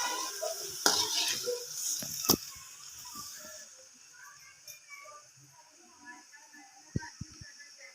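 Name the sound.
food frying in a pan on medium flame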